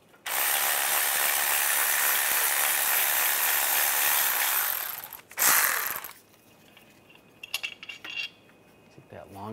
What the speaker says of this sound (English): Using a 15 millimeter socket, we're gonna take this bolt out.